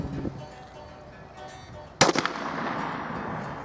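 A Stoeger Coach Gun 20 gauge shotgun fires once at targets, a sharp, loud blast with a brief rattling echo that trails off into ambient noise.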